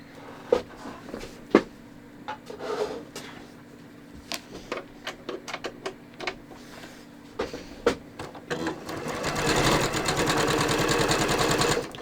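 A sewing machine stitches a 1/2 inch seam allowance through fabric held under a presser foot, starting with scattered clicks and short bursts before settling into a steady, close, continuous whir near the end, with no talk.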